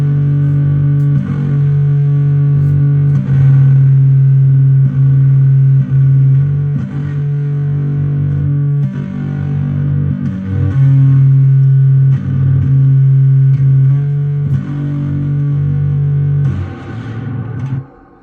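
An acoustic guitar recording processed to sound electric plays a sustained riff with heavy distortion, reverb and effects, giving a thick, electric-sounding tone that rings out loudly throughout.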